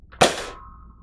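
One sharp, loud crack from an Adventure Force Tactical Strike foam dart blaster fired up close indoors, with a short ringing tail after the shot and no talk.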